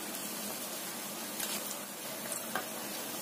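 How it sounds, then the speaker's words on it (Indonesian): Tofu pieces fry in hot oil with a steady, dense sizzle and a few sharper crackles, continuous and close throughout. "Kemudian kita goreng yang selanjutnya."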